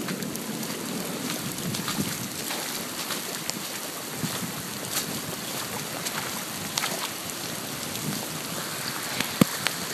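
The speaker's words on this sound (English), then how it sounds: "So here you can see the rain." Heavy rain pours down steadily onto full swales, a dense hiss of drops drumming on surfaces throughout, with a few sharper splashes and no voices.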